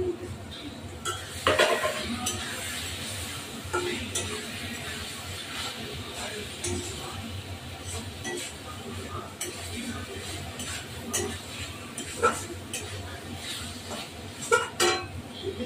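Prawns go into a pan of simmering prawn dopiaza with ghee and garam masala and are stirred, with steady scraping and clinking of a utensil, a soft sizzle underneath, and a few sharper metallic knocks.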